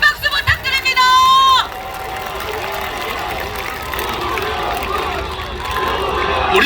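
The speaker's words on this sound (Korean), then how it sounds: "여러분, 큰 박수 부탁드립니다" A crowd at a Jeju governor candidate's campaign rally cheers loudly, opening with a burst of whistles and shrill shouts that gives way to a sustained, roaring mass of voices.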